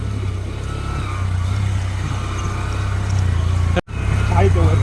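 A car driving up a very rough, difficult road near the foot of Rajgad Fort in Pune, Maharashtra, giving a steady, loud engine and road rumble with one brief dropout.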